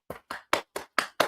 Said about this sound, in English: A round of applause, people.